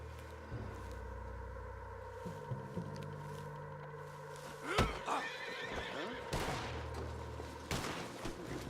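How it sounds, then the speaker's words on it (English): A horse whinnies loudly in the video game Red Dead Redemption 2 over a low steady rumble, with hoof clops and a sharp bang in the middle of the scene. "What's wrong with this horse?"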